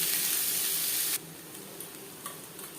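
Chopped onions fry in a little oil in a pan, a loud dense sizzle that drops sharply partway through to a quieter crackle with a few faint stirring ticks.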